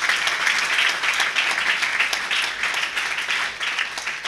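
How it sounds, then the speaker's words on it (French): Audience at a French-language book launch ceremony applauds and cheers steadily to thank the team behind the book, dense sustained clapping filling the whole stretch at even loudness. "Est-ce que nous pouvons leur dire merci en acclamant?"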